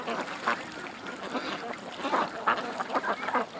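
Ducks quack close by in a steady chatter of short nasal calls, with a faint whirring drone hovering within a foot of them and no clear talking.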